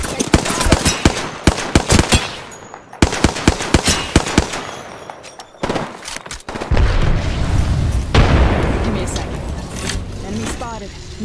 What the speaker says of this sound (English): A second squad is firing at us.